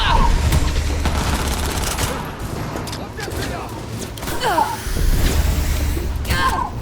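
Gunfire in the video game Cyberpunk 2077 rattles in dense bursts of rapid shots during a firefight at Arasaka, loud and near, with booms and whooshes mixed in.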